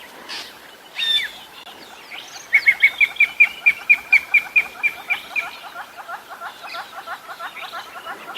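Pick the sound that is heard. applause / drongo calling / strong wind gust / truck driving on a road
drongo calling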